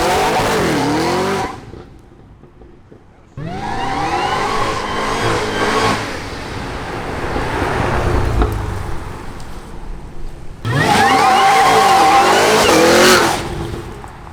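Supercharged Cadillac CT5-V Blackwing launching hard, with rising engine roar and a climbing blower whine through the gears, loud and close, pausing between pulls before another aggressive rev sweeps upward.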